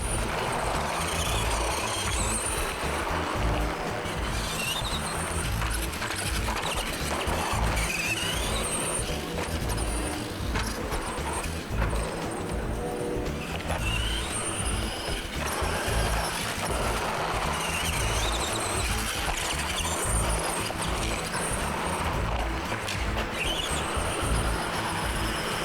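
An ECX Boost 2WD electric RC buggy driving on a street, a dense continuous rush of motor whine, wheel and gravel noise that stays loud and close throughout.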